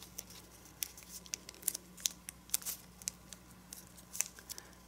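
Origami paper being creased and folded into a dragon, with a steady run of crisp rustles and sharp crinkles close by, falling in quick irregular bursts with no voices.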